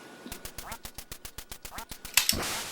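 Rapid electronic quacks from a duck in the video game Duck Hunt repeat in an even, quick rhythm, followed by a brief sharp burst and a fading rush of game sound, with no talking.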